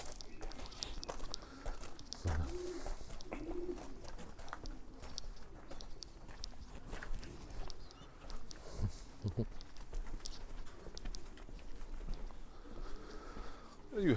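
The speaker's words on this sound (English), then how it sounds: "A lot of birds singing." Racing pigeons in a distance loft coo in soft repeated rumbling calls, with light shuffling and footsteps nearby and faint background noise.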